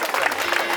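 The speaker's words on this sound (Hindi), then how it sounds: "ताली बजाइए।" Audience applause at a church ceremony for a bishop's consecration, a steady wash of clapping lasting under a second with no break, fairly loud and close.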